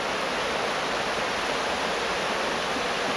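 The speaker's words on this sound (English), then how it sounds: "A day to go check out the river." A river flows in a steady, broad rush of water, loud and continuous with no breaks, filling the whole soundscape on a sunny, chilly day near Ediz Hook.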